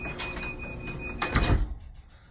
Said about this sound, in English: Now you notice the garage door is closing.